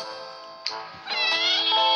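A cat meows close by indoors, with a short sharp sound followed by a longer, louder drawn-out meow, and no talk over it.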